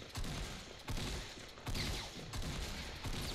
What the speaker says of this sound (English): I'm getting shot from every direction, man